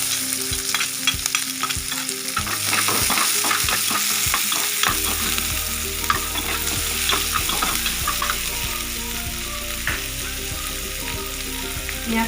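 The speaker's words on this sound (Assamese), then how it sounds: "এতিয়া ইয়াতে মই কাটি ৰখা পিঁয়াজখিনি দি দিলোঁ।" Chopped onions dropped into hot oil with panch phoron spices sizzle and fry loudly and steadily, with clattering stirring strokes throughout and no talking.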